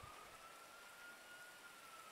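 A police siren in the GTA 5 roleplay video game holds a steady, thin wailing tone over a wash of hiss, fairly faint and continuous without speech.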